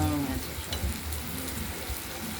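Sliced bitter gourd rounds fry in oil in a kadai with a loud, steady sizzle, and a few soft stirring scrapes come through underneath. No voices.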